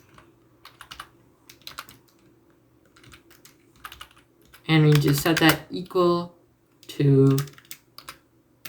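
Clicky typing on a computer keyboard while coding a Python Django view, with scattered keystroke bursts through most of the stretch and a voice talking over it partway.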